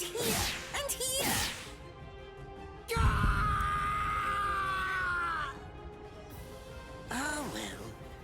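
A man's strained, drawn-out scream of pain from the Bleach Rebirth of Souls video game, loud and sustained for several seconds, with whooshing, whip-like strike sounds and shouted voices around it.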